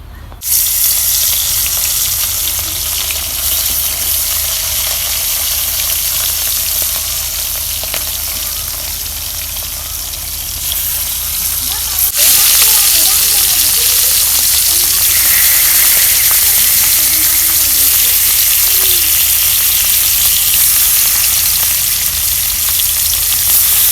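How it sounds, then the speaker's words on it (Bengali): Fish coated in turmeric frying in hot oil, a steady broadband sizzle filling the whole stretch, growing louder and denser after the fish goes in midway, with faint running-water noise and no talk. "এখন আমি মাছ তেল গরম হলে মাছ দিয়ে দিই"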